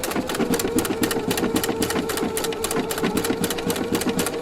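A Husqvarna Viking sewing machine stitches steadily with a circular attachment, its needle clattering in a fast, even rhythm close up and loud, running alone without talk.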